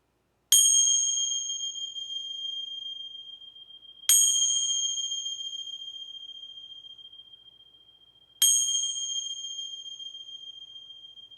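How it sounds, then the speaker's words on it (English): A bell is struck three times at slow, even intervals, each bright metallic ding ringing out and fading slowly in a quiet space. "Gonna ring some bells here."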